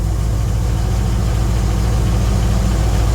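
A 1972 Pontiac LeMans engine idles with a steady, loud low rumble and an even pulsing beat, close up and unbroken, with no speech.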